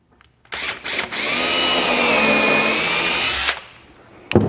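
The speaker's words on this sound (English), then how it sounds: "I'm just going to pre-drill them into the top of the base" A power drill pre-drills into 2x4 scrap boards, one steady close whine lasting about three seconds that winds down at the end, with a short tap afterward.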